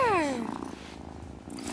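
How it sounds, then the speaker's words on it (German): Cat in the farming game Wylde Flowers, purring softly and briefly after a short meow as it is petted, close and quiet, with a voice speaking over part of it. "Kätzchen zumindest mal streicheln."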